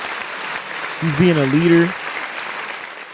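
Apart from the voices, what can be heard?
applause sound effect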